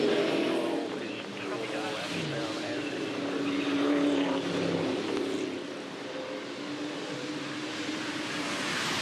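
Supercars race cars at the 2011 Hamilton 400 accelerating as the field gets going after a safety car period, engines droning and rising in the distance beneath steady commentary.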